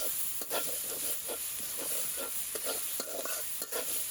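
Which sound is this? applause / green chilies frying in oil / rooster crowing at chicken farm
green chilies frying in oil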